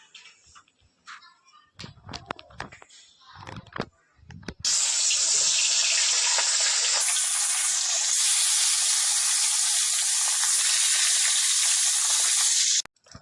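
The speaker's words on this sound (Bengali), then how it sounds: "তেলটা আমার গরম হয়ে এসছে। এবার আমি মাছগুলো ছেড়ে দেবো তাতে।" Loud, steady sizzling hiss of bhetki (barramundi) fish frying in hot oil starts suddenly after a few seconds of clattering and continues unbroken, then cuts off at the end.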